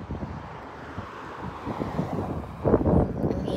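Strong, cold wind buffeting the microphone outdoors, a continuous low roar with gusts that swell louder near the end, no talk.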